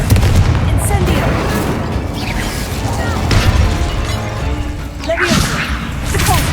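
Incendio fire spell blasts in the video game Hogwarts Legacy, booming fiery bursts amid continuous combat noise, thuds and spell effects, with no clear talking over them.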